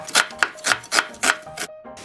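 A kitchen knife slices carrots into thin strips for a young-radish kimchi garnish, about seven crisp, evenly spaced chops landing close and clear with no talk.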